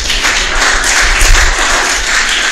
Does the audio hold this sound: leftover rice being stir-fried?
no